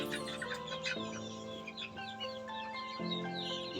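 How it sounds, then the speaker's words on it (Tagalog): Chickens in a backyard coop give soft, intermittent clucks and chirps over a steady background hum, moderately faint and somewhat distant. "Gani may nagsulod nga piso diri nga taga diri."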